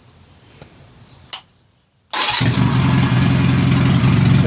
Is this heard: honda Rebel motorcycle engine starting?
yes